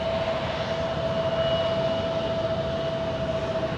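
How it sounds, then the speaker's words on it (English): A small CRJ regional jet roars steadily with a thrust reverser rush, a loud broad engine noise with a sustained whine over it at Louisville's airport. "that little CRJ's running its reversers"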